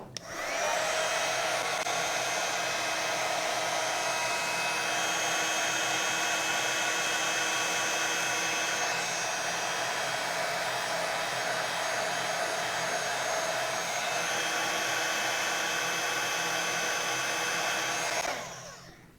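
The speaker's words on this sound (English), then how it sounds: "I'm going to heat emboss that as well." A heat tool used for heat embossing a card blows with a steady, loud, hissing whoosh and a high whine. It switches on abruptly, runs without change for about eighteen seconds, and then cuts off.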